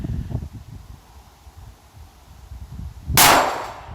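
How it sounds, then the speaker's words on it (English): One loud, sharp gunshot at the end, cracking over light wind and rustling at an outdoor range where a far-off steel plate is the target; no distinct ring of the plate follows. "I'm shooting at the far left plate."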